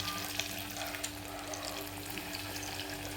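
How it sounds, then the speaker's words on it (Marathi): Potato cutlets dropped one by one into hot oil in a kadhai fry with a steady, quiet, crackling sizzle and a low hum underneath. "तर आता आपण एक एक तळून घेऊया"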